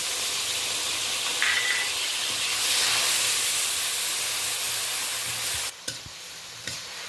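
Grated onion goes into hot oil with a loud, bursting sizzle and a hiss of steam. It keeps frying steadily, with stirring clatter near the end.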